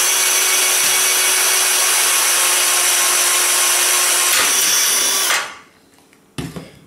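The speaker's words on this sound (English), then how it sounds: "Drilled out, and there is little to no damage in the hole." A power drill boring out a rivet on a computer case whines loud and steady for about five seconds, then spins down and stops, followed by a brief clatter.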